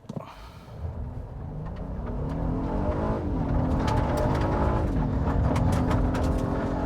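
A 2024 Honda Passport TrailSport with all-wheel drive launches hard on loose gravel, its engine droning loudly and climbing in pitch through two gear shifts, with tires crunching underneath.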